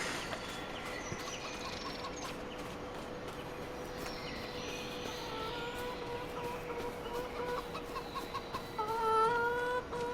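Chickens in Farming Simulator 25 clucking steadily on a farm, a layered flock chatter with a louder burst of clucks near the end, set against a constant background hum with no talk.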